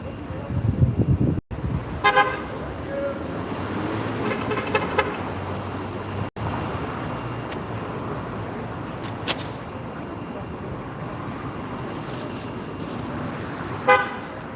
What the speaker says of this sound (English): Honking. Honking, honking.